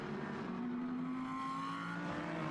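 A Lamborghini GT race car passes during a Japan Cup race at Okayama. Its engine note rises and sweeps by at moderate distance, steady and continuous with no talk over it.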